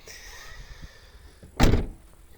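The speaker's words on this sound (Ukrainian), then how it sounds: "Глянемо також задню дверку, вже з правої сторони." Rear door on the right side of a well-kept car opened, a single short solid thunk of the latch and door near the end, close and clear over faint background hiss.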